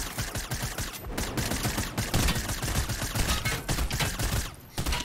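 Sustained rapid gunfire from a Fortnite weapon aimed at a helicopter, dense overlapping shots rattling continuously for several seconds with a brief dip near the end.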